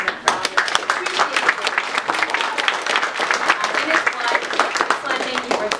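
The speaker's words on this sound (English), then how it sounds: "Can we just give him a round of applause?" An audience in a church claps in a dense, lively round of applause, close and continuous throughout.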